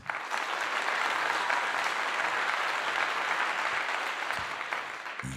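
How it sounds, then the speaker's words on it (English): A steady round of applause from a crowd carries on evenly for several seconds at moderate distance, a continuous clatter of many hands without talk. "Round of applause for that."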